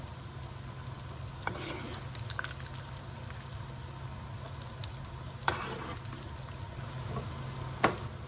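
Low, steady sizzle of food frying in vegetable oil in a large pot of egusi stew, with occasional clinks and scrapes of stirring, fairly faint and uninterrupted by speech.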